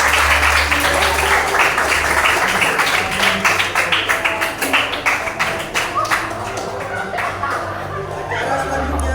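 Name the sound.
applause for group C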